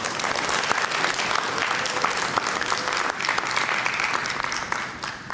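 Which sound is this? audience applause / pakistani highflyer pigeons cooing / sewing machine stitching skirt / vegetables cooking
audience applause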